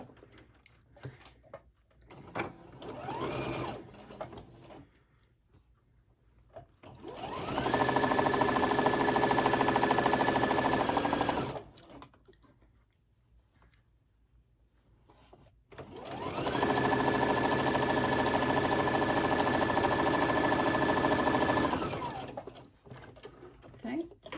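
A sewing machine joins pieces of a mini rainbow tote bag, running in two long steady bursts of stitching separated by quieter pauses with faint handling noise.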